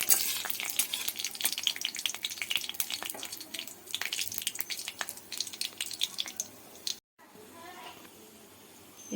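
Dried red chillies and nigella seeds crackle and spit in hot oil in crisp bursts, sputtering close by with a brief gap before quieter frying resumes, while a voice talks in the background.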